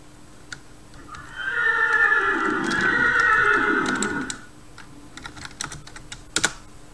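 A horse in a video game gives one long, loud neigh lasting a few seconds. Scattered clicks and taps follow it.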